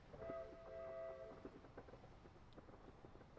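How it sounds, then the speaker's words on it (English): A steam-style train whistle from the video game Lazy Train sounds in two sustained harmonic blasts, then fades, leaving soft clicking game sounds over a quiet background. "Why did I hear a whistle?"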